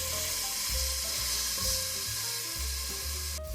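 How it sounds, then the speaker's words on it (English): Onion sautéing in a pot for a ground beef soup, a loud, constant hissing sizzle with a low stirring rumble underneath and no talking. "Next, I'm going to add in my onion. And I'm going to let that saute for 2 minutes."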